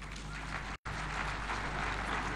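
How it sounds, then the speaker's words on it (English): A Kenyan devolution conference audience applauds in a dense, steady roar of clapping, broken by a brief sharp dropout to silence before resuming at the same level. "Another round of applause for Senator Kajwang"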